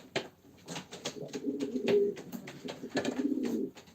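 Pigeons coo steadily at a live Turkish auction of play pigeons, their overlapping, throaty calls forming a continuous mid-level chorus with no voices over them.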